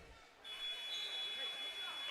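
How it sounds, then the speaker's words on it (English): Final buzzer at a girls' high school basketball game, a sustained electronic tone that kicks in abruptly and holds steadily over gym crowd noise and a commentator's voice. "There's the final buzzer."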